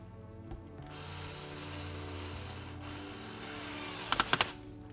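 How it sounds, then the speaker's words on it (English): A power drill driving screws at low torque into an electric skateboard's wheels whirs steadily, then its clutch slips in a few quick, sharp ratcheting clicks near the end. "And let the drill skip a few."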